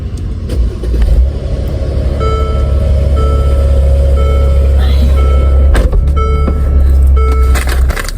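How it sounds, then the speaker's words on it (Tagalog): Constant low road rumble and engine drone from inside a moving car, loud and steady throughout, with a few faint clicks and tones over it. "Mag-drive muna tayo."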